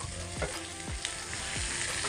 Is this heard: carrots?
yes